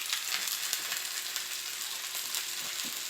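Onions sizzle gently in hot oil with green chilies for a tapioca dish, a soft, continuous frying crackle with a few faint stirring clinks, heard up close and fairly quiet.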